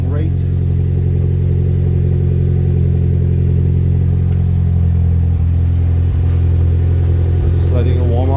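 A loud, steady exhaust rumble from an idling Mitsubishi Ralliart engine holds throughout, with brief speech near the end.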